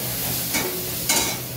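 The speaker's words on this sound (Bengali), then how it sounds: "বেগুনটাকে আমি একটু, খুব বেশি ভাজবো না, হালকা ভেজে নেবো।" Eggplant (brinjal) pieces lightly frying in a pan, a soft steady sizzle with a couple of brief louder hisses, close up and without talk.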